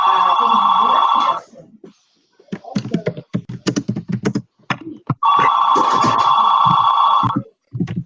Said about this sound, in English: Not used to hearing phones ring.